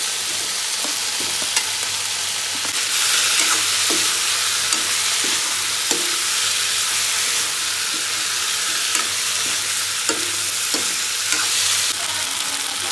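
Potatoes for an Assamese catfish curry fry in a pan with a steady, loud, close sizzle, broken by repeated stirring scrapes of a spatula, and no one speaks.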